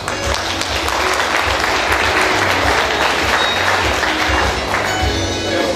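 An audience at an association's 45th anniversary ceremony gives a dense, even round of applause, many hands clapping steadily at close range for several seconds with no talk over it.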